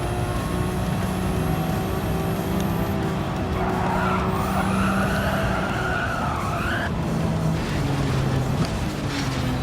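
A race car in Gran Turismo 7 runs off the tarmac onto grass at the Alsace circuit, its engine droning steadily with tire skids and squeals sliding in partway through, loud and continuous with no talking.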